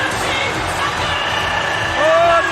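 A Pride mixed martial arts arena crowd roars for fighter Sakuraba at Total Elimination 2003, a loud, dense wall of cheering and shouting with rising voices near the end.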